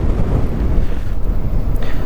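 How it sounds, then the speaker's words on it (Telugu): Strong wind blowing at Seethapalem beach near Pudimadaka, Vizag, a loud continuous roar buffeting the microphone from start to finish, with no voices. "అలా గాలి వస్తూనే ఉన్నది ఇందాక నుంచి"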